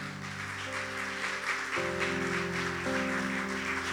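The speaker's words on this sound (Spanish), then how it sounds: "Denle un fuerte aplauso al Señor." A church congregation claps over sustained keyboard or organ chords that shift pitch twice, the applause a continuous broadband rustle under the music.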